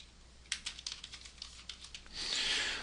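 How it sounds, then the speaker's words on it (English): Quick, close keystrokes tapped on a computer keyboard while entering text into a box, a short burst of light clicks followed by a soft rustling hiss. "if I can type here"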